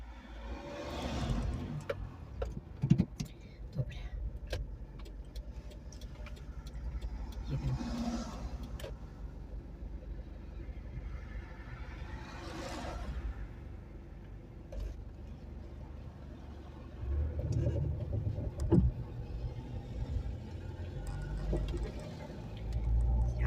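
A car drives along a road on a hot day, its engine and tyres a low steady hum heard from inside the cabin, rising in a few soft surges, with quiet background sounds throughout.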